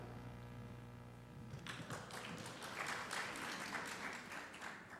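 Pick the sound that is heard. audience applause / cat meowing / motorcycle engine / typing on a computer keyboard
audience applause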